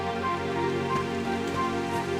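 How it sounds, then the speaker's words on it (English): Steady rain falls in the video game Dragon Quest XI, a constant hiss of dense droplets with no break, blended with a soft sustained musical background and no talking. "It would have to go and start raining, wouldn't it?"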